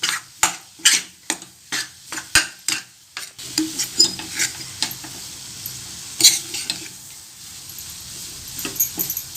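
Besan laddu mixture with milk is stirred in a pan with a run of rhythmic scraping strokes, then softer intermittent scrapes over a faint sizzle.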